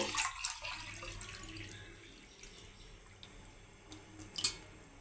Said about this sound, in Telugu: రెండు గ్లాసుల రెండు లోటాలు వాటర్ అయితే యాడ్ చేసుకొని నానబెట్టుకోవాలి